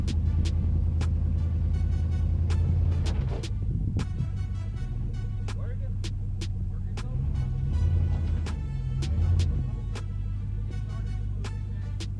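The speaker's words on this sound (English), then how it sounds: "we're gonna just kind of drive and push the tow dolly under the truck, under the S10 with Pearl." A 1993 Chevrolet S10 pickup's engine idles and revs gently while the truck creeps forward, pushing a tow dolly under itself. The motor hums steadily with a few louder surges, and rattles and clicks cut in now and then.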